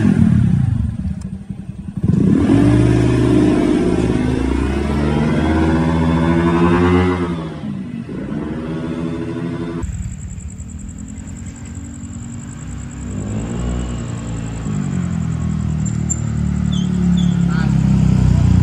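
A scooter-style motorcycle fitted with mixed 7-gram and 15-gram CVT rollers revs and accelerates close by, its engine pitch rising and falling in repeated surges, with people talking over it.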